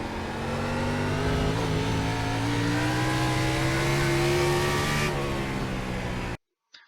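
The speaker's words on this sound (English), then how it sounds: "I'm just going to show and play this in full speed for a minute here and just listen to the throttle." A NASCAR race car engine in iRacing held near its rev limit at Charlotte Roval, a loud steady high-pitched whine with slight pitch shifts throughout, cutting off abruptly near the end.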